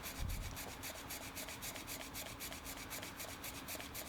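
A hacksaw cuts a plastic lug off a motorcycle grip on a KTM 390 Adventure, giving quiet, rapid, even rasping strokes in a steady back-and-forth rhythm close by.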